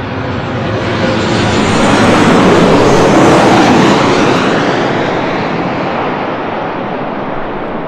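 Airliner arriving from Phoenix passes overhead, a loud broad jet roar that swells toward the middle and then slowly fades, with no other sounds.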